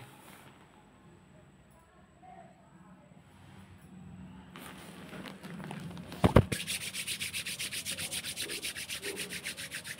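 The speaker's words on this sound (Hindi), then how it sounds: "फिर दोनों हाथों को ऊपर करते हुए रगड़ेंगे दोनों हथेलियों को" Both palms rubbed briskly together during a gentle warm-up exercise before yoga, a steady rhythmic swishing friction that grows louder and continues to the end, with faint room noise at the start.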